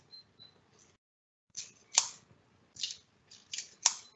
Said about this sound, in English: Now you can just use some scissors.